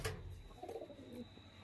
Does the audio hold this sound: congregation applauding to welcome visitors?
no